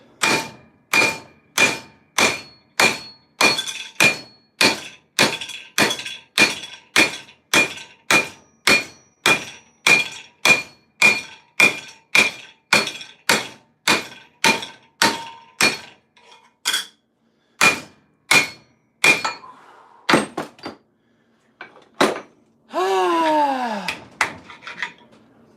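Metal armour being hammered in a home garage: a long run of sharp, ringing metallic blows at a steady, even pace, close and loud, slowing to scattered strikes and a final clatter.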